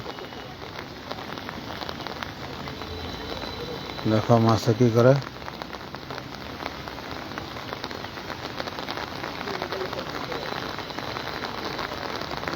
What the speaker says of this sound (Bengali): দেখো বৃষ্টির আওয়াজ শুনতে পাচ্ছ